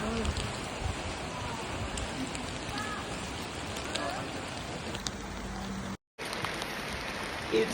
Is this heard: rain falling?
yes